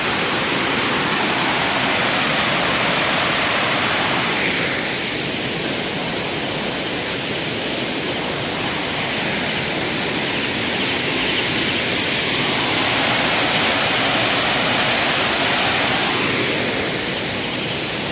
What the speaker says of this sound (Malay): ini adalah kawasan air terjun